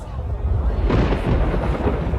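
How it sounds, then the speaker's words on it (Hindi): Deep rolling thunder rumbles steadily through the whole short stretch, loud and broad with a low swell near the middle and no voices. "तो कुछ ने कहा कि बादल गरजा"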